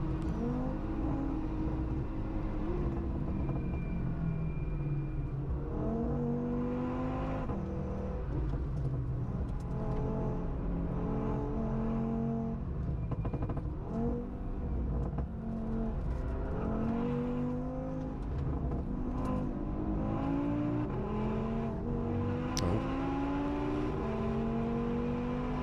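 A small Audi race car with a big engine laps the Nürburgring, its engine note rising and falling through gear changes over a long, sustained drone, loud and continuous the whole time.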